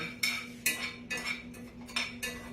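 Pecans toasting in a pan are stirred with a metal utensil, giving six or seven distinct scraping strokes at a steady rhythm, close and moderately quiet, with no talking.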